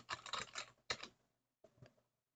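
Quiet keystrokes on a computer keyboard, a short burst of clustered clicks, a brief pause, then a couple more taps, close but faint, with no voices.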